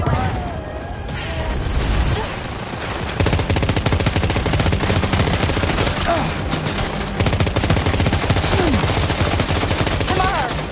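Gunfire in Death Stranding 2 crackles in dense rapid bursts and sustained automatic volleys, loud and close, with booming impacts mixed in throughout; a voice talks briefly underneath.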